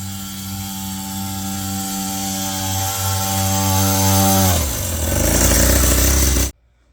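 A ported 50cc two-stroke pit bike engine screams loudly while being ridden, its pitch climbing steadily under hard acceleration before dropping and surging again, then cutting off abruptly.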